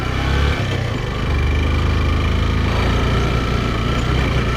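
A motorcycle engine labours over a rough off-road trail near Naubise, Dhading, its loud, steady mid-low drone rising slightly in pitch after a brief dip, with no voices over it.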